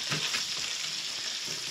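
Pieces of rabbit browning in a frying pan, giving a steady, close sizzle with a few light stirring scrapes and no talking.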